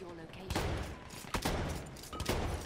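Gunfire bursts in Battlefield 1, a World War I video game, with three sharp, loud volleys spaced about a second apart over a busy battlefield background.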